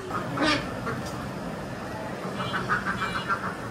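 Ducks quack in short bursts, a few loud calls early and a quicker run of quacks later, over a busy background.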